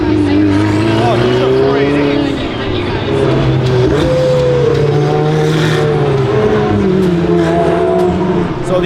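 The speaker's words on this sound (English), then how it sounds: "All the Ferraris are out." Ferrari Formula 1 cars at the 2023 Montreal Grand Prix, their engines a loud, continuous droning whine with pitch that rises and falls as they run, filling the whole stretch.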